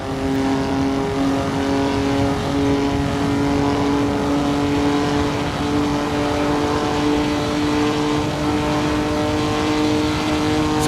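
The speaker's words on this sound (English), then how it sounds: "I can hear it barely trying to get up the rev range over the top of the hill." A Formula 3 race car in Assetto Corsa on the Sudschleife, its engine holding a steady strained drone as it climbs the rev range, loud and continuous throughout.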